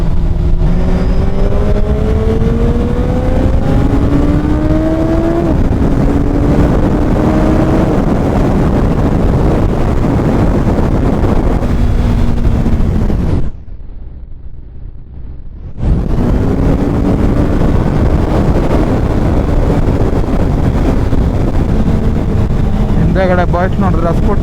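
A Hayabusa superbike engine roars steadily with rising and falling pitch as it accelerates and shifts on the road up Devarayanadurga hill, heavy wind rushing over it, dropping out briefly midway.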